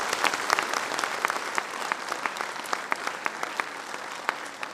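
Audience at a school annual function applauding children after a performance, a dense spread of clapping with sharper individual claps popping out, steady and moderately loud.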